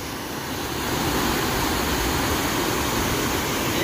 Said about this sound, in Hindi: ऊंचे वाले हिस्से से पानी आके इस नीचे वाले हिस्से में गिरता है। और इसका जो प्रेशर है पानी का, आप देख सकते हो कितना फास्ट प्रेशर है